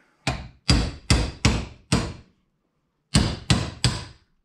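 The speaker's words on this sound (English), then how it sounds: "drive a little wedge in the opening there" A hammer drives a small wedge into the clamped metal seam of a 55-gallon steel barrel held in a vise. Eight sharp, ringing blows land close by in two quick groups with a pause between, and no talking.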